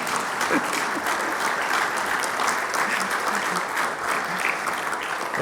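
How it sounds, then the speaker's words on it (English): An audience gives a guest speaker at a finance seminar a round of applause, steady dense clapping throughout with some voices mixed in. "So you need to give him a big round of applause."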